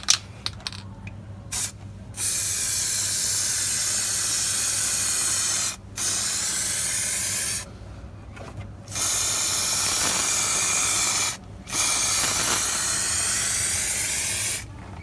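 Aerosol rust-proof clear coating sprayed onto a vehicle chassis, a loud steady hiss in repeated long bursts separated by short pauses, close up with no talking.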